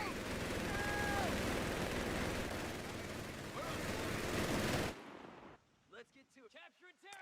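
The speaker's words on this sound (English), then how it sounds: "Contact, heavy MG." Heavy machine gun fire in the strategy game Company of Heroes 3: a loud, continuous rattle of rapid shots and battle noise that cuts off abruptly, then soldiers talk over a quiet background.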